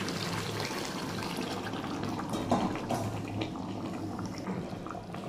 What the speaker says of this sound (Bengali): এবার একটু পরিমাণ মতো জল দিয়ে দেবো।